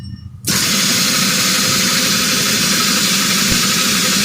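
Drill boring a hole with a bit, starting abruptly after a brief quiet moment, then a loud, steady whirring drone that holds close and even to the end, with no talk.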